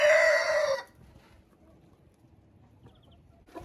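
Chickens and a rooster in a broiler pen crow and cluck loudly for under a second, then the sound drops to a quiet farmyard background with faint scattered noises.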